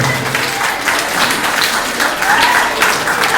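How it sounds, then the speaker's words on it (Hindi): Loud, sustained applause from a large audience fills an auditorium at a formal function, dense and steady throughout with no speech over it. "उस पूर्ण आत्मा के लिए मैं चाहूंगा इस सभागार में जोरदार तालियां"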